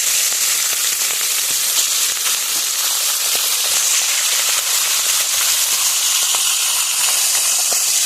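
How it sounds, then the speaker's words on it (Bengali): Four fish heads fry in hot oil in a wok, a loud, dense, continuous sizzle and hiss with scattered pops and crackles, close up and steady throughout. "তো চলো এবার মাছের মাথাগুলো আমি ভেজে নেব।"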